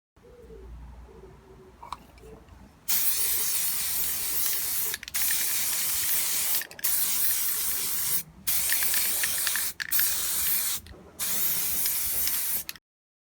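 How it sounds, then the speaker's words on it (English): Quiet room, then a spray can hisses loudly in five long bursts separated by short pauses, close by, spray painting R2-D2 droid parts. "I've got lots of other things to spray and paint today"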